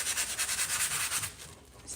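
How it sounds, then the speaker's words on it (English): A sanding block wrapped in sandpaper rubs a painted furniture edge in quick, rhythmic back-and-forth strokes, close and fairly loud, then eases into lighter, softer scraping near the end. "put your sanding block with your sandpaper around it, and very lightly"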